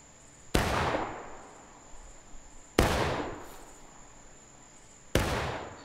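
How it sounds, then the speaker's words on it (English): Company volleys of musket fire in the War of Rights video game, three sharp crashing volleys spaced about two seconds apart, each trailing off in a rolling echo, with a faint steady whine beneath. "Firing by company from the right. 2-second delay. Make ready. Take aim."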